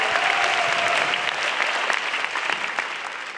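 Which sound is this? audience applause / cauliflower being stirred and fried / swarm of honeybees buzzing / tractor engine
audience applause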